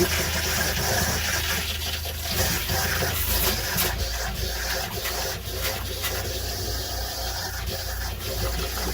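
Cold water tap running inside a Winnebago Solis 59PX camper van during winterizing, a steady hiss and splash of water into a sink, fairly close and continuous, with faint knocks and a low rumble partway through.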